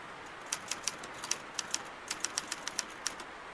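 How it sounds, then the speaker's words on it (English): Sharp, crisp typewriter keystrokes in the horror adventure game Scratches, a dozen or so irregular clacks spaced unevenly in short bursts, fairly close and alone against a quiet background. "Typing, typing, typing."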